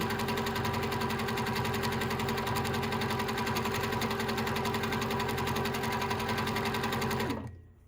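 A sewing machine runs steadily at high speed for free motion quilting of doodle filler designs, a dense continuous mechanical buzz that stops abruptly near the end, with no talking.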